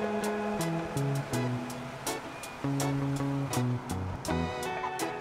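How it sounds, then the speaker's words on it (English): A CNC mill runs a tap-removal toolpath through empty air, its drives whining in stepped tones that jump between pitches, with sharp clicks between moves, close and steady. "let's just check that toolpath by cutting some air"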